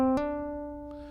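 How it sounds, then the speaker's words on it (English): On a guitar, a single picked open string rings out, then a fretting finger hammers on to sound a second, higher note, which sustains cleanly and fades, with a faint thump near the end. "That's where you pick a string and then hammer on with your left hand, assuming you're right-handed, to create a second note."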